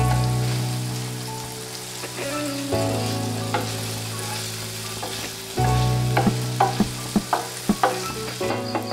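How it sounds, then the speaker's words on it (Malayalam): Paneer shallow fries in a pan with a steady, close sizzle, while sharp scraping taps from stirring grow more frequent toward the end. "അതുകൊണ്ട് ഒരുപാട് ഓവർ കുക്ക് ആക്കാതെ ജസ്റ്റ് ഷാലോ ഫ്രൈ ചെയ്തെടുക്കുക."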